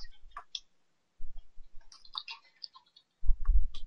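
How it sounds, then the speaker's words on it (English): Computer keyboard keys being smashed, with sparse sharp clicks and taps scattered in irregular bursts and a heavier thump cluster near the end; quiet and close, no voices. "I heard you smashing on the keyboard."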